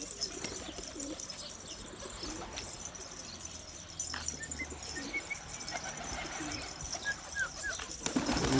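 Pigeons coo softly in a garden, a few low repeated calls spread across the clip amid steady outdoor background noise, with a couple of brief higher bird chirps near the end.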